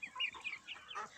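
Livny marble chickens cluck in a cage, a run of short, close, busy clucks and squawks with no talk.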